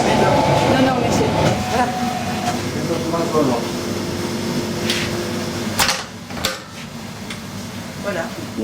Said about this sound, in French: C'est un batteur un peu plus grand que ce qu'on a à la maison.